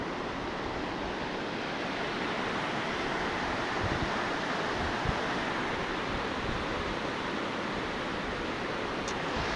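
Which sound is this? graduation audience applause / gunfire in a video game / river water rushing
river water rushing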